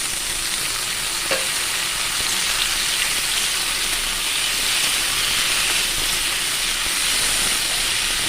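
Chopped pointed gourd (kakrol), rubbed with salt and turmeric, frying in a covered pan as a steady, close, loud broadband sizzle and hiss that holds evenly throughout with no talking.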